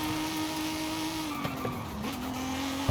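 A Datsun 240Z in the racing game Forza Horizon 5 braking hard, with a steady engine drone and sustained tire squeal and skidding that shifts pitch as the car slows, ending in a brief thump.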